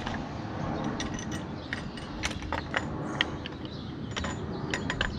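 A bolt and sleeve are worked loose from a trailer tongue jack caster wheel, giving a run of small metallic clicks, ratchet-like ticks and light jangles over a steady background noise, close by with no talk.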